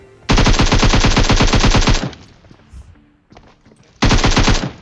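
Gunfire in a PUBG-style battle royale video game: two loud, close bursts of rapid automatic fire, separated by a quieter gap with faint clatter, no speech.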